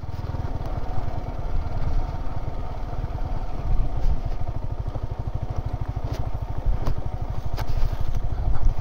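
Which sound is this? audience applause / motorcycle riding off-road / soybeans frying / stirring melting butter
motorcycle riding off-road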